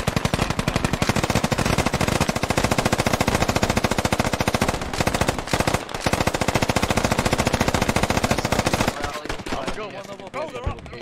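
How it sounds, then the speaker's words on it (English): Sustained rapid machine-gun fire rattles out in a video game, near and loud, with dense, evenly spaced shots for about nine seconds before it stops and quieter game sounds follow. "I get the machine gun."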